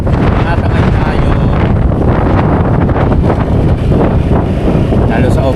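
Strong wind gusts buffet the microphone in an open area of a Philippine city, a loud, steady roar with rumbling bursts throughout, with a voice talking over it.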